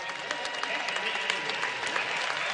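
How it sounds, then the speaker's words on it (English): Crowd applause in an arena during a women's college basketball game, loud sustained clapping with scattered sharper claps throughout, filling the space without a break. "Big round of applause."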